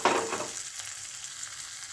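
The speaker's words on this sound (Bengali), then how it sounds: "একটু ভালো করে মিশিয়ে নেব।" Mung dal with winter vegetables and a spice tempering being mixed in a pan, a short burst of sizzle and a stir at the start that settles into a low steady hiss.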